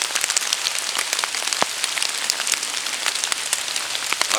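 Persistent rain pours in a woodland, an even hiss of countless drops striking foliage punctuated by a few heavier close drips, sustained at constant loudness and heard alone.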